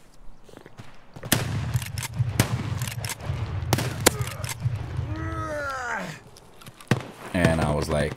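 Gunfire in the Escape from Tarkov shooter game: a run of sharp, loud shots over a steady low rumble, a few distinct cracks spaced a second or so apart, then a sweeping mechanical whine and a final burst near the end.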